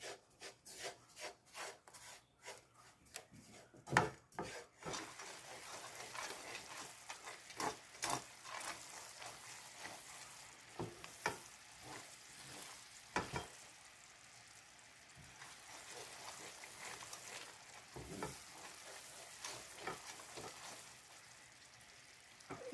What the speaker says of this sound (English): Now I'll just check the sugar is all melted.